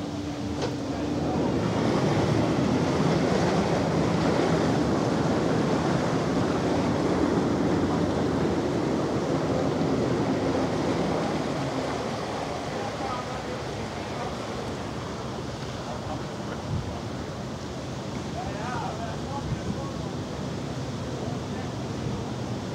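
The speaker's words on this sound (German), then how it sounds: "Der Wind legt jetzt aber richtig los." Strong wind buffets the microphone while waves wash against the hull as a cruise ship, the AIDAprima, sails away from Hamburg, a continuous heavy roar that eases a little partway through.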